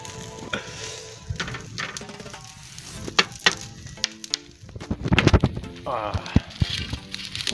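Meat sizzles and crackles on a barbecue grill at a Moroccan Eid al-Adha family gathering, a steady close hiss broken by sharp pops and clinks, with people talking over it.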